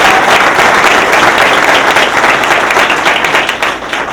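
Loud, sustained applause from a crowd at a graduation celebration in Seattle, dense continuous clapping that holds steady and then begins to thin out toward the end.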